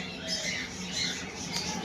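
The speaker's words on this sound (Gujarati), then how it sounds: "મિત્રો ઓસ્ટ્રેલિયાનું હજુ એક પક્ષી જોઈ રહ્યા છો જેને કોકાટેલ કહેવામાં આવે છે" A cockatiel at Sundarvan Nature Park in Ahmedabad squawks in repeated harsh, shrill calls against a busy background of other birds, fairly close and steady throughout.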